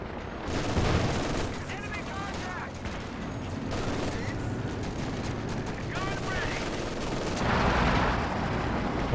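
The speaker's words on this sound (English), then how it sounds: "Oh, that's actually a pack howitzer." Battle sounds in Company of Heroes 2, including pack howitzer artillery fire: booming shots and dense gunfire rumble continuously at moderate volume while a commentator talks over them.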